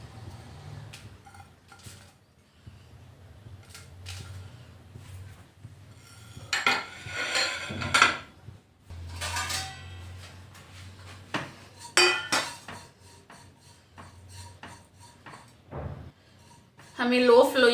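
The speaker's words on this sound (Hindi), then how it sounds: "तो पहले मैं भूनूंगी तिल, और हमारा सूखा नारियल," Sesame seeds and dry coconut dry-roasting in a pan, with a utensil clinking and scraping against the metal in bursts while someone talks over the cooking.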